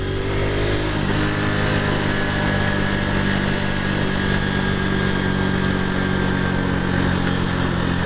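A Honda Pop 110 motorcycle engine runs steadily and loudly up close, a constant idling drone with no speech over it.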